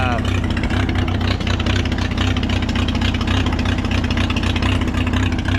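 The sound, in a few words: old barn find tractor engine cold start and running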